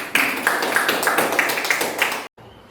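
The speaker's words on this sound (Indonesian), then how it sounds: "Tepuk tangan anak-anak." Schoolchildren in a classroom clap together in a steady, rhythmic beat, loud and close, then stop abruptly and leave faint room noise.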